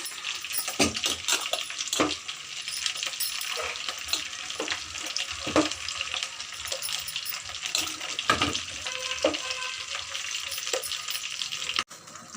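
Mutton pieces fry and get stirred with ginger garlic paste in a hot pan, a steady loud sizzle broken by repeated scraping stirs, with no talking.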